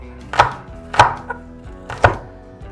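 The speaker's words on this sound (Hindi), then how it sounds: "दो हिस्से में काटेंगे इसको, फिर इसको भी पतला पतला काट लेंगे।" A knife chops the white part of a spring onion thinly on a cutting board; four crisp, close knocks land at uneven intervals in otherwise quiet surroundings.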